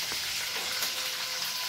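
Chicken pieces fry in hot oil in a pan, giving a steady, dense sizzle with faint crackles throughout, close and continuous with no talking.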